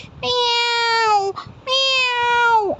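Two long, loud, drawn-out cat meows in quick succession with a brief gap between them, heard close and alone, from cats tied to pillars.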